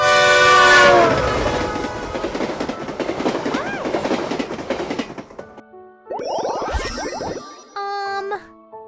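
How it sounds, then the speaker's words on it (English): A cartoon train roars past loudly with rumbling wheels and a horn blast, then fades out and gives way to bright chiming jingles and sound effects. "Train."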